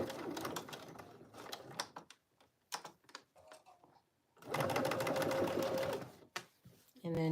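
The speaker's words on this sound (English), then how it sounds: "Drop the needle, and I'm going to just go ahead and do my hem." A sewing machine stitches the hem of a homemade jacket in two close, steady whirring runs, the second longer, with a soft talking voice and light clicks between them.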